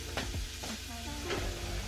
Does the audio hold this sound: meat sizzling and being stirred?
yes